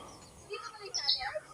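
A bird calls on a windy mountain summit, giving a few brief high chirps close by in otherwise quiet air.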